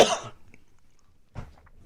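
A person coughs hard once at the start, then coughs again more softly after a short pause, close to the microphone with no talk.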